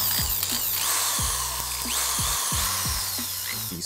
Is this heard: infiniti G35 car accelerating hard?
no